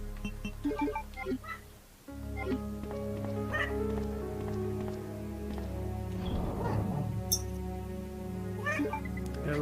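A cat meows in the Resident Evil 2 video game, a few mid-length meows rising over a steady humming musical backdrop, fairly close and clear, with no voices on top.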